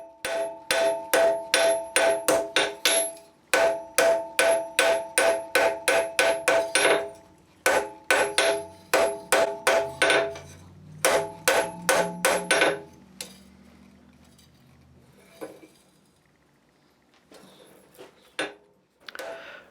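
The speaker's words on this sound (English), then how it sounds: "I'm working in the center of the anvil so I can hammer this area very smooth." A hammer forges a steel lantern hook on an anvil, ringing out in fast, bright, evenly spaced metallic strikes in several bursts, then slowing to scattered taps and quieter handling.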